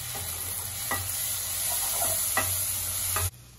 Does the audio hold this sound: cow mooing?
no